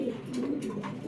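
Large English Bar Homa pigeons coo softly and steadily, low rolling calls repeating at close range with no talking.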